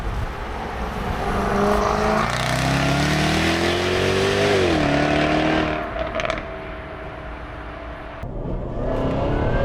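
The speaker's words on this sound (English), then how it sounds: "That supercharged V8 delivers instant torque." A Jaguar F-Type SVR's supercharged V8 roars loud and close as it accelerates, pitch climbing through gears with a brief dip at a shift before it eases off.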